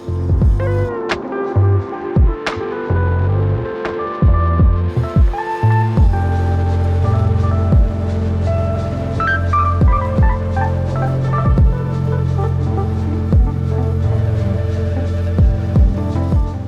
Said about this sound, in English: this is actually the first crack. You can hear a little bit of the cracking happening